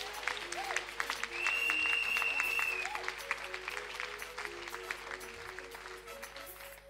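A church congregation applauds in a steady, sustained wave of clapping that runs throughout, with musical tones and a held high note playing underneath.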